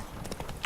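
Horse hooves in the video game Witcher 3, a few quick clip-clop beats in a brief burst, moderately loud and alone without talk.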